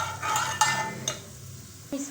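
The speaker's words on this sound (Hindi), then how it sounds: "लहसुन थोड़ा सा फ्राई हो जाए तो अब हम इसमें ये प्याज जो काटी थी हमने वो डालेंगे।" Chopped onion drops into garlic already frying in oil, giving a short run of sizzling with a few clinks of a utensil against the pan, heard close and moderately loud and free of talk.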